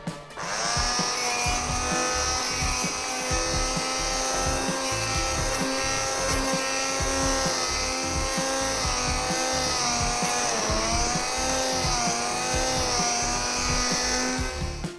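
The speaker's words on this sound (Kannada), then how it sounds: "ಬ್ಲೆಂಡರಲ್ಲಿ ಒಂದು ಸಾರಿ ಬ್ಲೆಂಡ್ ಮಾಡಿಬಿಡ್ಬೇಕು" A blender purees cooked onions and tomatoes for mulligatawny soup, giving a loud, steady motor whine with a rough, churning undertone that runs unbroken from start to finish.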